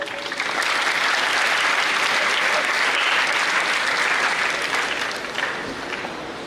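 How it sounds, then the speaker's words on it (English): An audience at a university orientation program gives a sustained round of applause for the sports council, swelling quickly into dense even clapping that gradually thins toward the end. "So make a huge round of applause for the sports council."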